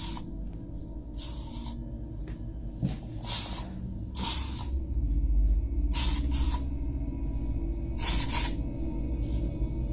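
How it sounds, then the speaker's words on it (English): Lysol disinfectant spray is sprayed in a kitchen in repeated short, close hissing bursts, several in a row with brief pauses between them, over a low background rumble. "I wiped them, and now I'm Lysoling them."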